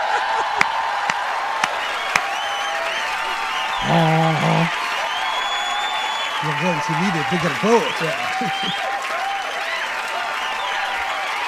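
Sustained applause from an audience rolls on as a steady wash of clapping from start to end. Brief voices speak over it partway through.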